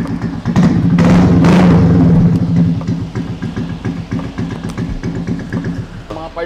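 A 2000 Toyota Revo engine with a newly fitted exhaust gives a loud blip, then settles into a steady, rhythmic pulsing idle close by, with some talk in the background.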